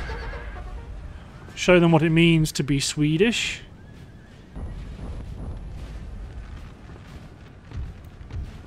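A horse neighs loudly in a long, rising-and-falling whinny amid cavalry of 364 lancers in Napoleon Total War, preceded by a spoken line and followed by distant battle rumble and faint murmuring.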